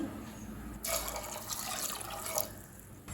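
Water pours into a pressure cooker holding black chickpeas with cinnamon, clove, cardamom, garlic and salt: a steady splashing stream lasting about a second and a half, then stopping, over quiet background.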